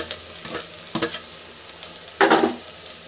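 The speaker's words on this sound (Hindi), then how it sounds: "इसको अच्छे से चलाएंगे।" Potatoes, roughly chopped onion and carrot for pav bhaji sizzle in a pan while being stirred, a soft steady fry punctuated by a few sharp scraping bursts of the spatula, the loudest near the end.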